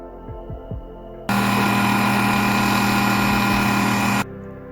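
An electric mixer grinds coriander, mint leaves and green chilies into chutney paste, a loud steady whirring roar that cuts in abruptly, runs for about three seconds and stops just as suddenly.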